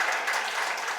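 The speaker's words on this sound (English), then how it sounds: "A round of applause as he goes back." A brief, continuous round of audience applause, a dense wash of clapping heard alone at moderate volume.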